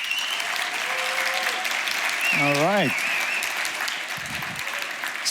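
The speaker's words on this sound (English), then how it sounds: "By means of strength of your applause," Conference audience applauding the organizers at a closing keynote, a steady wash of clapping under a voice speaking briefly, with a short rising tonal sound partway through.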